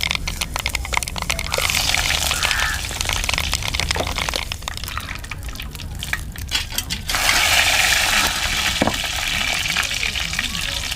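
Curry leaves hiss and sizzle as they hit hot coconut oil in a clay pot, a loud continuous frying crackle close by that flares up sharply partway through.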